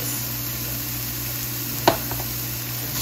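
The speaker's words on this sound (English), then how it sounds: "just going to stir that around for a minute and just let that cook just a bit" Egg roll in a bowl cooking in a pan, a constant close sizzle with one quick clack of a utensil against the pan partway through as the food is stirred.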